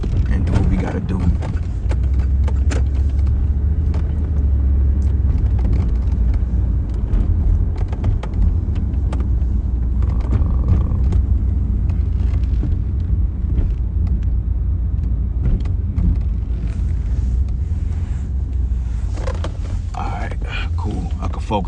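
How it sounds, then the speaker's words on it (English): A car being driven and parked, its engine and road rumble steady and loud from inside the cabin throughout, with faint murmured talk under the drone. "let me park this car real quick"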